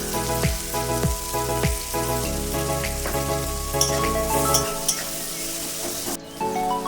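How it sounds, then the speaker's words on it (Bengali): Chopped onion and ginger frying in oil in a pan with cinnamon and cloves, a steady close sizzle with a few metallic clinks and stirring scrapes, no voices. "পেঁয়াজ আদা ভাজা হয়ে গেছে"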